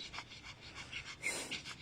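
A Pomeranian pants in quick, soft, breathy bursts close by, faint and steady with no talking.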